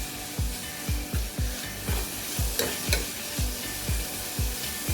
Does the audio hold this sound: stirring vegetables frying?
yes